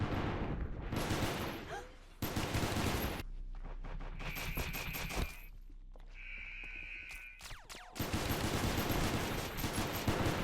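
Gunfire in the Space Station 14 game, a fight that downs a cyborg: dense bursts of shots come in several loud stretches, broken by quieter gaps with mechanical tones.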